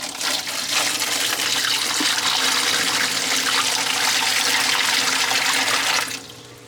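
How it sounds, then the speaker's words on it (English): Water pours from a jug onto a setup of absorbent bricks, a loud, continuous splashing gush close by that holds steady for about six seconds before cutting off abruptly. "let's add some water. We got jug number 1 going in."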